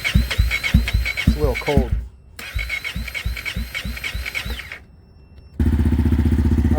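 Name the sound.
KTM 300 motorcycle engine starting in cold weather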